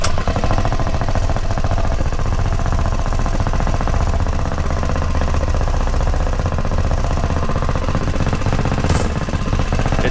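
A mini trike's small engine runs nearby with a loud, steady, rapid hammering chug that holds constant throughout, with no talking.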